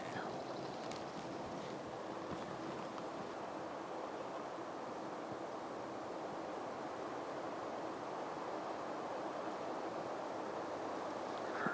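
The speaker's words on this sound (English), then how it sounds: "I can't tell, there's too much wind." Steady wind rushes through the woods, a broad continuous roar at moderate level with no letup, and faint intermittent voices underneath.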